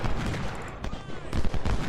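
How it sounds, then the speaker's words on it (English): Cannon fire in the Civil War strategy game Ultimate General: Civil War, rapid overlapping booms and gunfire in a loud continuous barrage, with someone talking over it. "there are cannons firing in there"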